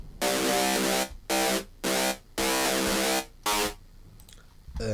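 A buzzy, distorted synth bass built on a square wave plays in short sustained bursts with gaps between them, loud and upfront, with no voice.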